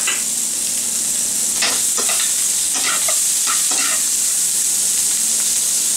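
Shrimp seasoned with Old Bay are stirred in a frying pan, a steady loud sizzle under several quick scraping strokes of a utensil, close up with no talk.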